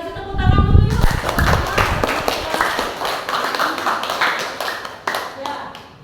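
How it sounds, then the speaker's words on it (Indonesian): A school class applauds after a group presentation, with a dense patter of many hands clapping close by for several seconds while voices talk over it. "kasih tepuk tangan dulu yuk"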